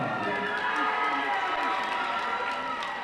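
Crowd cheering and applause rise to greet the 2024 OSSAA Game Day State Champion Special Olympics cheer and pump squad at a Broken Arrow vs. Sapulpa basketball game, a steady loud roar of many voices filling the gym.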